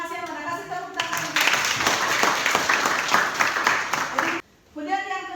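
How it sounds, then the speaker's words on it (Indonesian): Applause from a classroom audience for a student presenter, a dense burst of clapping under a talking voice, cut off abruptly near the end as speech resumes. "kasih tepuk tangan"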